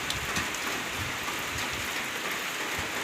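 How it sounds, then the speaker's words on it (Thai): Steady rain pours down with a constant dense hiss, close and even throughout, with no voices. "มีฝนตกพี่น้องบ้านข่อยมื้อนี้"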